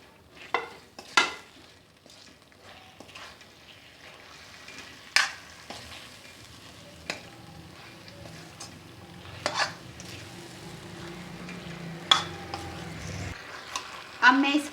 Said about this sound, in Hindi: इसके अंदर ये चिकन डालूँगी और अच्छी तरह मिक्स कर दूँगी।